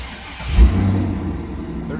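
A car engine cranks and catches about halfway through, a short starter whir followed by a low, steady idle rumble that continues to the end.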